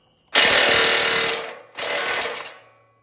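A power tool drives home the bolts on a welded sawmill track in two loud, grinding bursts, the first about a second long and the second slightly shorter. Both are close up, with no talking.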